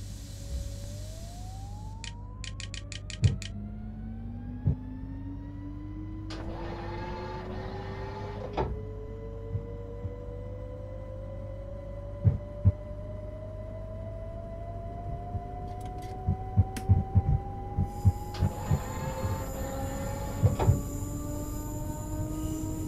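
ÖBB Cityjet S-Bahn train, class 4744, on the S2 toward Mödling, running through Vienna at night: steady low rumble with rising motor whine tones, door-like clunks and short beeps, heard alone from inside.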